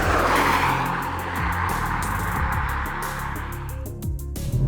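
A 2024 Mercedes-AMG GLC 43 Coupe in Sport Plus mode roars loudly under hard acceleration, its engine note rising through gears with sharp crackles and pops as it eases off, heard close without talk.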